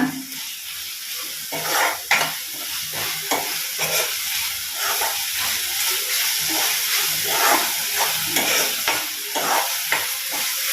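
Ginger garlic paste frying in a pan for a soya chunks gravy: a continuous close hiss and sizzle with frequent stirring scrapes and taps throughout, fairly loud and without speech.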